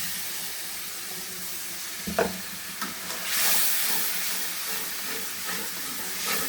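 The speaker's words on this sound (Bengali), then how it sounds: "দিয়ে কষাবো এই যে তেল বেড়ে গেছে কত সুন্দর তেল ছিটে উঠে" Turmeric, chili, cumin, coriander and salt sputter in hot oil for a home-cooked curry, a steady close hiss with a few sharp pops and a rising burst of spattering midway.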